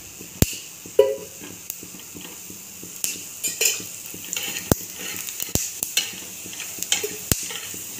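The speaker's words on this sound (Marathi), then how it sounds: "धने पण छान भाजून घ्यायचे. छान वास सुटेपर्यंत भाजायचे धने पण." Coriander seeds dry roasting in a pan, with a spatula repeatedly scraping and clinking against the metal over a soft rustle, sharp close-up ticks scattered irregularly throughout.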